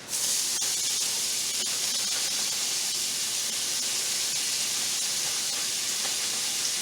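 Onion and vegetables sizzle in sausage grease for gumbo egg rolls, a steady close-up hiss running unbroken throughout with a few faint clicks and no talking.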